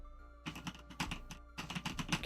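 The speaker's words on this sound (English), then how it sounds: "You can still hear my keyboard." Rapid clicking of a computer keyboard being typed on, picked up by a sensitive desk microphone, in two bursts separated by a brief pause, close and fairly quiet.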